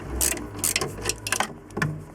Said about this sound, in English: So I'm going to unbolt this fan and remove it,